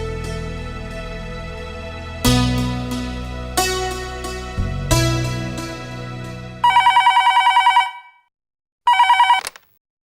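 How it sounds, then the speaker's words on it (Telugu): A telephone rings in two loud electronic bursts, the second cut short, following a few sustained musical chords. "ఒకసారి భార్గవికి ఫోన్ చేసి కనుక్కోవటం మంచిది."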